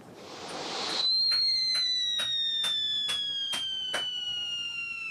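A whistling Scream O2 firework in a fireworks video game rises to a shrill, steady whistle that slowly drops in pitch, cut into by a regular series of sharp crackles, all loud and close.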